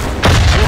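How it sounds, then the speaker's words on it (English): A Japanese grenade goes off in a Pacific-war video game, a single loud, close boom that hits abruptly and rolls into a sustained rumble filling the rest of the moment. "Throwing Japanese grenades"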